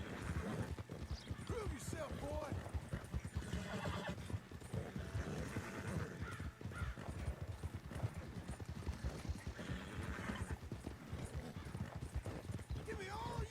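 Brindle horse in Red Dead Redemption 2 galloping with steady, dense hoofbeats and repeated whinnies, loud and close throughout, with a voice talking over it.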